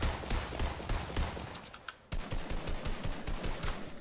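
Rapid automatic gunfire from the Fortnite video game, dense bursts of shots rattling continuously with a brief pause midway before the firing resumes.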